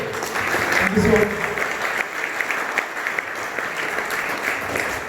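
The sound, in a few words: audience applause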